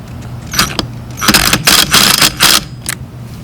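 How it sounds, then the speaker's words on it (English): A ratchet and 10mm socket tightening a bolt on a Honda Trail CT90 top end, giving several short bursts of close, sharp clicking ratchet strokes separated by brief pauses. "You want to get the 10mm socket with the ratchet and tighten it."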